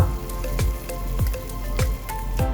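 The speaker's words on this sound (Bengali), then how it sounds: "শুরুতে আমরা কিছু পরিমাণে পেঁয়াজের কুচি ভেজে এটা পেঁয়াজের বেস্তা তৈরি করে নেব" Chopped onions frying in hot oil for a Bengali chicken kala bhuna base, a steady crackling sizzle broken by regular stirring scrapes about every half second, close and continuous without speech.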